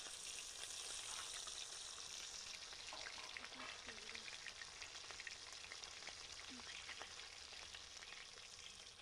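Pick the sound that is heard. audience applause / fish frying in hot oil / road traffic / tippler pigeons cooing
fish frying in hot oil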